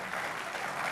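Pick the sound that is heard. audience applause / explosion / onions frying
audience applause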